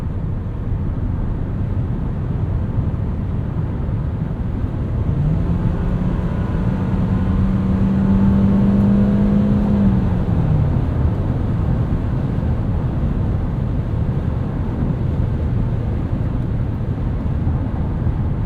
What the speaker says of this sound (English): Wind noise is about average for a car in this class.